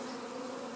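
A swarm of honeybees gives a steady, dense drone that stays close and loud, with an electric vacuum box for collecting bees nearby and no talking.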